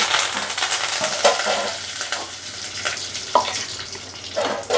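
Chana dal, urad dal and curry leaves fry in hot oil with a dense, close crackling sizzle, broken by scraping stirs and occasional louder pops.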